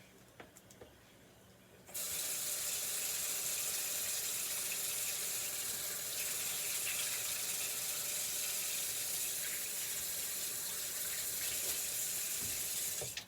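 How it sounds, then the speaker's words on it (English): Water from a kitchen tap runs steadily while hands are washed beneath it, a loud, close, continuous rush that starts abruptly after a quiet moment and holds unbroken until it cuts off at the end. "Let me wash my hands."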